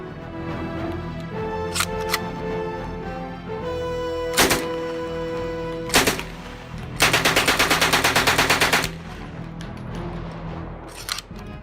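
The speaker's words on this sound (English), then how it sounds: "the MP-40 is an exceptional submachine gun in close combat" MP-40 submachine gun designed by Heinrich Vollmer firing, with loud single shots and a sharp rapid burst of automatic fire, each report ringing out with echoing decay between bursts.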